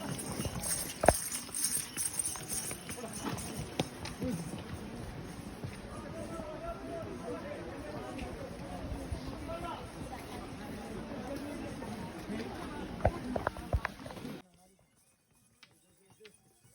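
Horses clip-clop steadily along the mountain path to the Vaishno Devi shrine, hooves knocking under a dense babble of pilgrims' voices and crowd noise that cuts off abruptly near the end.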